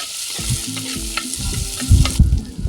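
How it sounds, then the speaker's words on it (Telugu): Onions, green chillies and curry leaves frying in a clay pot for a village-style curry, a loud close sizzle with stirring scrapes and thumps against the pot, brief and continuous with no talk. "కట్ చేసి పెట్టుకున్న ఉల్లిపాయలు, పచ్చిమిరపకాయ ముక్కలు, కరివేపాకు వేసుకొని బాగా వేయించుకోవాలి"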